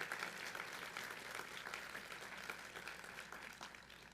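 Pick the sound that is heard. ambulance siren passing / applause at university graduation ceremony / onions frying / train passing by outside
applause at university graduation ceremony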